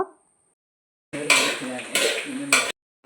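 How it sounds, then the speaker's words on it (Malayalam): Coconut being roasted for sambar in a pan on a rainy day, a few close scraping and clanking stirs of a utensil against metal in short bursts, separated by near silence. "അപ്പോൾ ദാ നമ്മളെ സാമ്പാറിലേക്കുള്ള തേങ്ങ വറുത്തുകൊണ്ട് നിൽക്കുകയാണേ അമ്മ."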